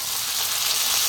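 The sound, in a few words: canned tuna dropped into a hot pan, sizzling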